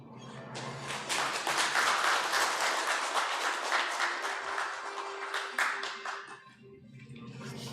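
Sustained applause from a seated audience at an international forum on local autonomy legislation, greeting a presidential committee chairman at the podium. Dense, even clapping swells quickly, holds steady for several seconds, then thins out toward the end.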